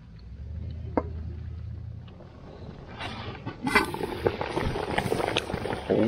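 A large pot of shrimp and crab boil bubbles steadily over a campsite flame, a constant rolling gurgle that swells louder and busier in the second half, with a few soft knocks and clinks along the way.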